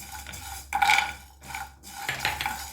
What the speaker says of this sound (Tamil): பாதம், முந்திரி எல்லாத்தையும் சேர்த்தாச்சு. இது எல்லாம் வறுபடட்டும்.